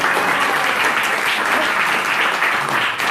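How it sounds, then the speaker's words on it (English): A temple audience at a Sunday gathering applauds to welcome a newcomer, with steady dense clapping that holds evenly for about three seconds with no talk over it. "Give Lee a big round of applause."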